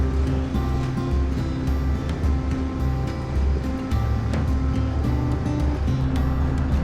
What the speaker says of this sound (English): latch for this wing mirror is missing, so it's quite noisy, as I'm sure you can probably hear